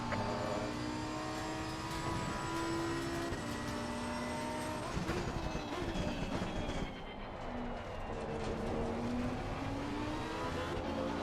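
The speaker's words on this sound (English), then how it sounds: "There's a slow car ahead." Race car engines in Assetto Corsa Competizione, a loud continuous whine with several cars' pitches rising and falling through gear changes as a slower car is approached, dense and steady throughout.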